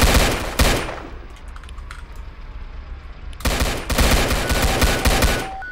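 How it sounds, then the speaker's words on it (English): Rapid automatic gunfire from a Roblox police game, loud bursts of dense shots at the start and again in the final seconds, with a quieter rumbling gap between them. "Shots fired, officer down."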